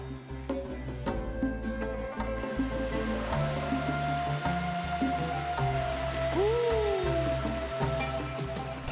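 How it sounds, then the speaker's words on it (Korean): Steady rushing and babbling of a clear mountain stream near the source of the Taehwa River in Korea's Yeongnam Alps fills the scene, with soft tonal music playing over the water. "태화강의 발원지에서 흘러내려온 구슬처럼 맑은 개울"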